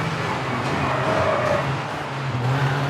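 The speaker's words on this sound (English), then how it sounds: "I can hear cars behind us, gnawing at us." Rally cars racing in the V-Rally 4 video game, a steady engine drone with shifting tones and rising whines from cars close behind, held continuously throughout.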